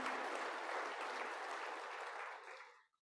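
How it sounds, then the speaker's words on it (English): Applause at a closing ceremony, a soft, distant wash of many clapping hands that holds steady and then fades quickly into silence. "Let's give them a round of applause."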